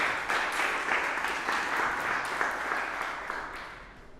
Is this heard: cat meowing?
no